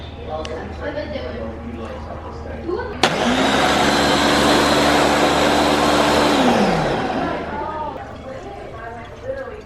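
A kitchen blender whirs loudly for several seconds while chocolate shakes are mixed. It starts abruptly, holds a steady motor whine and then winds down, with people talking before and after.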